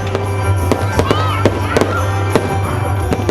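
A fireworks display follows a Christmas tree lighting in Cebu: sharp bangs and crackles at irregular intervals, with rising whistles between the bursts, over a loud background murmur that may be an outdoor crowd.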